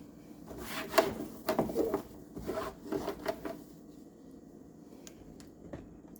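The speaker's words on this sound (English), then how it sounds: "And I'm just wiping the door." A cloth rubs across a microwave door in several short, close wiping strokes of soft scuffing and squeaking, quieter toward the end, with no voices.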